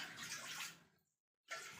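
Water from a small tea glass pours into a pan for jaggery syrup, a close splashing stream that stops briefly and then resumes.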